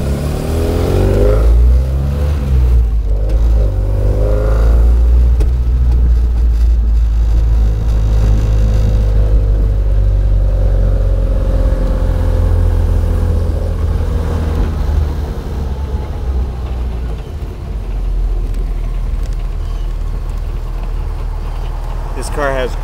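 A 1960 Bugeye Sprite engine revs and pulls hard while driving fast, low rumbling exhaust rising and falling through gears, loud and continuous for a long stretch.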